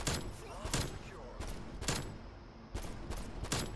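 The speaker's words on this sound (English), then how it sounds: "I immediately switched to the Diamatti, the 3-round burst pistol" Diamatti three-round burst pistol firing in Black Ops Cold War multiplayer: several quick clustered shots in bursts spread across a few seconds, fairly close, with game ambience and faint speech beneath.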